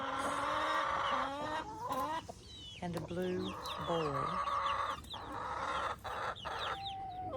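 Hens, including blue hens, clucking and squawking close by in a busy run, choppy repeated calls overlapping, with a brief spoken phrase mixed in.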